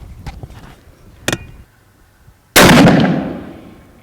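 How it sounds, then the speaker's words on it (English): A Savage 220 rifle fires a single loud, sharp shot at close range, its report decaying over about a second after a few faint clicks and handling noises. "Fire another shot at her."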